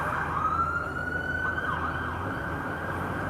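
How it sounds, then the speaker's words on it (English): Emergency vehicle sirens wail through Dublin city streets, heard from a moving bus, with a rising, sweeping tone held steadily over the low rumble of traffic and engine noise. "As you can hear, we have a lot of sirens going off today."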